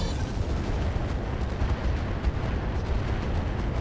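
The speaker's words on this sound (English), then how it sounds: "We're going to fire everything we've got at the Firestarter." Mech weapons fire all at once in the RogueTech video game, producing a dense, rumbling barrage of booming blasts and bursts that stays loud and continuous throughout, heavy in the low end.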